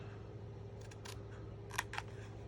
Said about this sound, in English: So you just need your scissors and you're gonna angle this way right towards